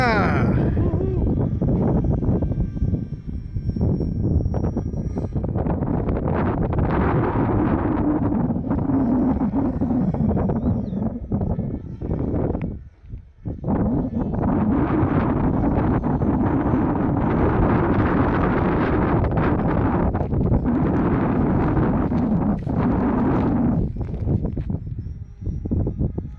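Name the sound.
strong wind outdoors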